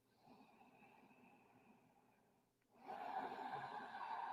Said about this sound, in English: Remember that deep breathing with sound.